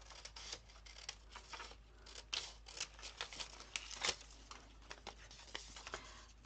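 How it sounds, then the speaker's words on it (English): Scissors snipping a paper strip at a craft table, a run of short crisp cuts with light paper rustle, close and fairly quiet, no talking. "I will cut this strip out."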